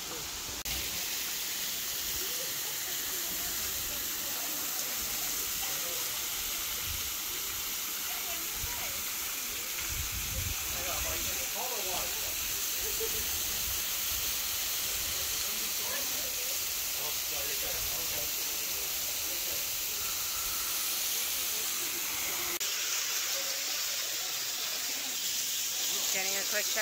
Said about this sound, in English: Made it to Ravine Falls.